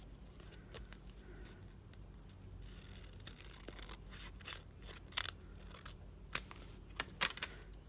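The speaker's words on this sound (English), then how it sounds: "Now I have to cut that line off again." Scissors snip through paper while trimming a journal page, a series of quiet close crisp cuts with small rustles between them.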